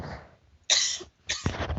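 A woman coughs twice in a quiet indoor room, two short harsh bursts with a brief pause between them, close and fairly loud with no talking over them.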